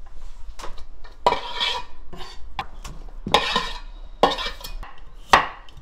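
Kitchen knife work on cucumbers for stuffed cucumber kimchi, with sharp clacks and taps on a cutting board and clinking dish sounds in irregular bursts, close and fairly loud.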